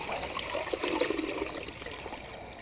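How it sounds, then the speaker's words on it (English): Water pours steadily out of a bucket with a square cut-out near the bottom while mixing leveling compound for subfloor preparation, a close, continuous trickling stream with no talk. "I'm just going to dip, hold it up level. It will pour out when it gets to the bottom there."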